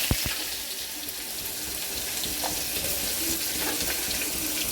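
Onion sizzling in hot oil with mustard seeds and cumin, a steady soft crackle and hiss throughout, fairly quiet with no talking.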